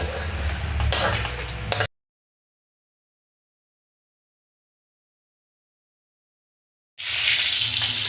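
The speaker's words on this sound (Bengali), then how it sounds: "এবার পটলগুলো ভেজে নেব" Pointed gourd (potol) slices, rubbed with salt, turmeric and a little sugar, sizzle and fry in a pan, a steady crackling hiss with faint clinks that stops for several seconds and then resumes just as strongly.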